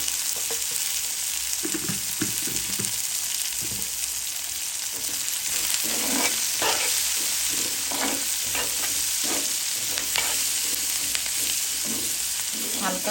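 Steady sizzle of frying turmeric in hot oil in a pan, with repeated scraping and stirring strokes throughout, no voices.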